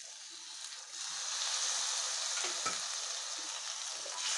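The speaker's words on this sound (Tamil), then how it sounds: "நல்ல கிளறி விட்டுடலாம்." Yogurt being stirred into a small-potato gravy in a pan makes a loud, close sizzling hiss with brief scraping stirs, swelling slightly after the first second.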